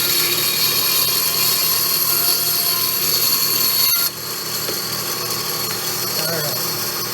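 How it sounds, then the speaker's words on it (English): A power tool cutting a piece of wood for a latch, a steady loud whine for about four seconds, then dropping to a lower, quieter running hum with faint handling noises. "Let's cut this sort of off first so we can see a little better."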